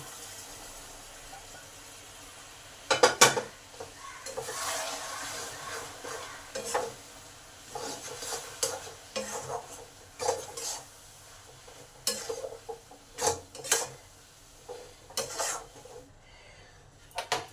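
Hot semolina mixture for homemade suji barfi is stirred in a pot as syrup goes in bit by bit: uneven scraping and clanking of a spoon against the pan over a soft sizzle, close and moderately loud, with no talking.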